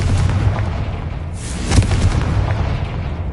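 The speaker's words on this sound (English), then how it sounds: "Revelio. Confringo." Confringo fire spell exploding in Hogwarts Legacy, a loud booming blast with rumbling fiery crackle, followed by a second sharper burst and lingering roar, close and dense.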